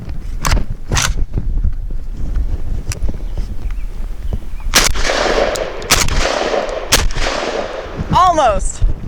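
A 12-gauge SDS Imports Lynx 12 shotgun fires Winchester 7.5 shot shells, 1 1/8 ounce at 1200 velocity, in several sharp, loud outdoor blasts spaced unevenly, with a few distant reports and a metallic clink near the end.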